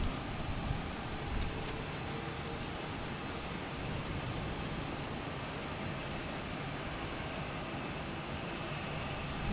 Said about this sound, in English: we have Alaska Airlines coming in. We got a 737 MAX 9 coming from San Francisco